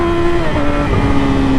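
A Yamaha R6 motorcycle engine drones loud and close during a wheelie, its pitch dipping slightly as it shifts gears, then holding steady.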